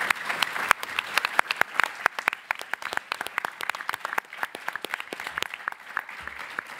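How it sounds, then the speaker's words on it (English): Scattered applause from a modest audience at a 24-hour film project presentation, individual claps distinct and uneven, fairly close, with no voices over it. "So I applaud you all."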